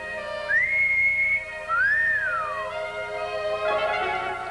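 A wolf whistle in a 1960 comedy film: a rising swoop followed by a falling arc, clear and fairly loud over a faint background with no talk.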